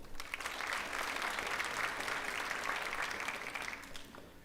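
Audience at a high school graduation ceremony applauds in a sustained, dense round of clapping that fades slightly toward the end, with no voices.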